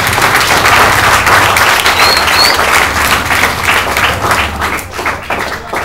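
A school assembly crowd applauds the headmistress during a drug awareness session, dense sustained clapping close and loud throughout before thinning slightly at the end, a few faint voices underneath.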